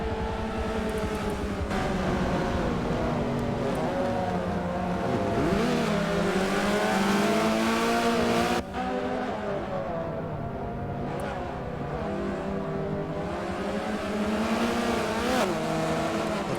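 Race cars pass the start-finish line of a Grand Prix circuit in Forza, loud engines revving and shifting pitch as they roar by one after another, with a commentator talking over them.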